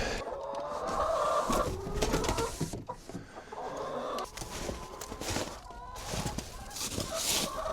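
Backyard chickens cluck softly as their coop is opened on a winter day, scattered calls and rustling at low level with a few louder bursts, mostly without talk.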